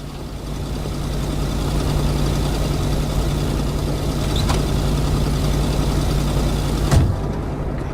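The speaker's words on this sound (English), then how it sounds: "Damn, this car is loud." In the video game Kona, a loud car engine idles with a steady low rumble throughout. A single soft thump lands near the end.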